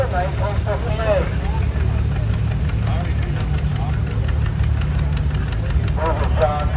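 A John Deere 620 tractor from 1958 rolling by in an antique tractor parade, its engine thumping steadily and loud under an announcer's voice and crowd chatter.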